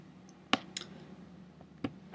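A computer mouse clicks on a WordPress page in a quiet room. There is a sharp click, then a softer one, and another click a second later.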